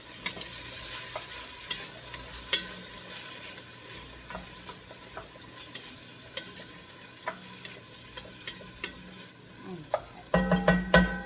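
Garlic and aromatics for rice pilaf sizzle softly in a pan while being stirred, with scattered light clicks and taps of the utensil, then a louder, busier burst of frying near the end; no voices.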